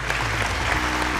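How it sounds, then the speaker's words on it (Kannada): Loud, steady applause from a studio audience at a Kannada comedy show, dense clapping filling the whole moment with no gaps. "ಸೊ ಜೋರಾಗಿ ಚಪ್ಪಾಳೆ ಒಂದ್ಸಲಿ"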